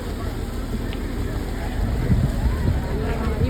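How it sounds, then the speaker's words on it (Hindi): A boat pulls up to a jetty, its low engine rumble mixing with wind noise in a steady close drone, with people talking over it. "हमारी बोट आ गई है।"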